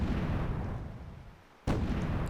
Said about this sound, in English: Look at those rounds coming down.